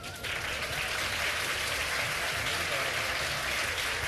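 A television studio audience breaks into steady, sustained applause, a dense wash of clapping filling the whole moment at close range.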